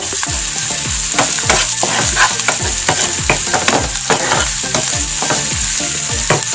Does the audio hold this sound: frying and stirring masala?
yes